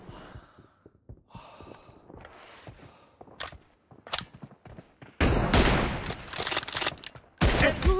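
Bursts of gunfire in the battle royale video game PUBG during a one-on-one room match, with quieter scattered shots early on and then loud, dense sustained volleys near the end, alone without talk.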